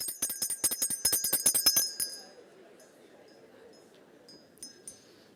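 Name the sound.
bell rung to signal 60 seconds up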